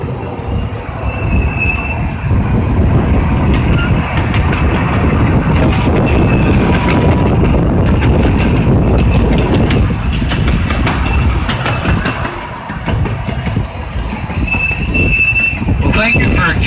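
Miniature train ride at the Santa Ana Zoo, heard from on board as a loud, steady rumble of wheels on track with occasional squeals and clacks, voices talking beneath it.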